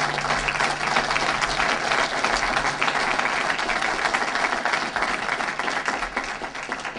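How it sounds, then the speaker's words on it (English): Sustained applause from an audience at a Côte d'Ivoire trade fair gathering in Los Angeles, honoring Dr. Zhao and staff; dense, steady clapping fills the whole stretch with a low hum beneath. "So I want you to give a huge applause to Dr. Zhao and staff"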